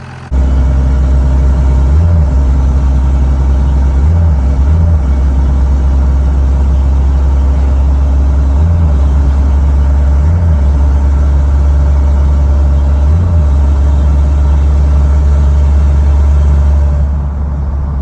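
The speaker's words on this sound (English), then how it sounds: "It's been having some issues with the torque converter cycling on and off." A 2nd-generation Cummins diesel truck cruises with a steady low engine drone, its faulty torque converter cycling on and off to give a series of brief, regularly spaced low thumps and surges over about eighteen seconds, with no talking.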